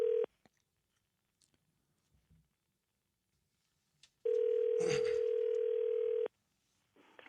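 Telephone ringback tone heard during an outgoing phone call: a short burst of the tone, a quiet pause, then a long, steady, loud tone lasting about two seconds.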